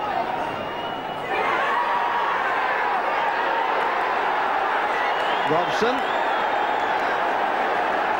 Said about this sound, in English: the roars from the crowd had nothing to do with this match